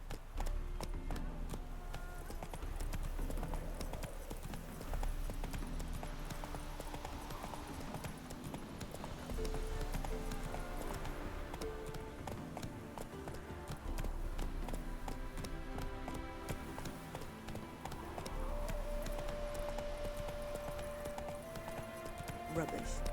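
Roach the horse gallops in The Witcher 3, with rapid rhythmic hoofbeats running continuously under a game music score and brief voices.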